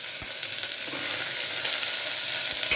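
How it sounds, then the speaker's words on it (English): Peas, cut beans and carrot fry in a pot with a steady, close sizzle. A few soft stirring knocks come through, and no one talks. "Fry this"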